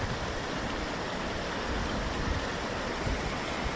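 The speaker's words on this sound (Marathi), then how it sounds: "हे धबधबे वरून वाहत आहेत ते." Waterfalls pour down from above in a continuous, dense rushing roar, steady and unbroken throughout, with no voices.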